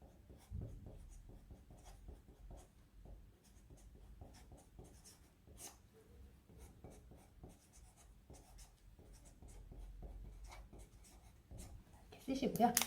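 Handwriting letters on paper with a pen, soft scratchy strokes running steadily under a quiet indoor background, with a louder rustle near the end.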